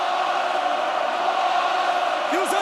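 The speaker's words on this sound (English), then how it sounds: "Wow, the crowd, I've never heard them so animated." A rugby stadium crowd at an Ulster versus Leinster match roars in a loud, sustained wash of noise, steady throughout with a brief whoop-like rise at the end.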